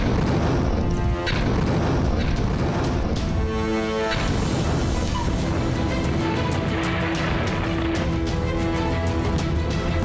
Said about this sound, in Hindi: इजराइल ने बम गिराकर ट्रक को धमाके में उड़ा दिया